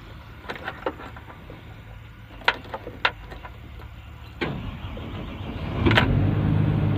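A Cat 320D excavator engine being started: a few sharp clicks and knocks, then the starter cranks and the engine catches, settling into a steady, loud, low rumble close by.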